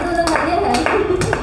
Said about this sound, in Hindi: चलिए जोरदार ताली।